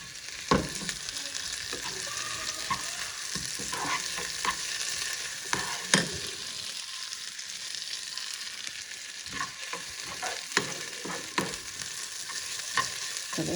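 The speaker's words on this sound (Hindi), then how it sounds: "अब डाल देंगे अपना ये भुर्ता। अब इसको करेंगे अच्छे से फ्राई।" Eggplant bharta fries in a pan with browned onions, giving a constant hissing sizzle up close, punctuated by scraping stirs and light clatter of a spoon against the pan.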